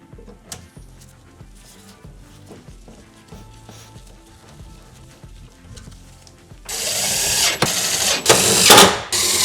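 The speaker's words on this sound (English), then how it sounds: "I'm going to be using an impact just to speed things up" An impact driver tightening bolts while installing a Legend BedBoss bed system in a Ford F-150: low handling noises at first, then loud, close bursts of rattling hammering for the last few seconds.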